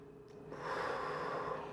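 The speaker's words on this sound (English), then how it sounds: "Deep breaths." Deep, steady breathing during a floor yoga pose in a flow session, a soft sustained exhale rising after a brief quiet start, close and alone with no talk.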